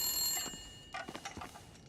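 Telephone ringing indoors in The Long Dark, a bright trilling ring at the start fading, then a few softer rattling bursts, fairly quiet with no talk.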